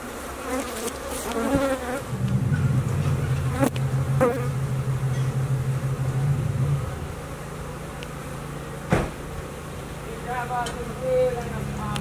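Honey bees buzz loudly during a hive removal from a ceiling, a dense continuous drone swelling in the middle, with scattered knocks and clicks around it and brief stretches of talk.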